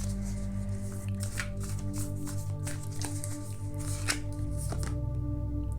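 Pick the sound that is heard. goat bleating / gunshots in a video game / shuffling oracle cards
shuffling oracle cards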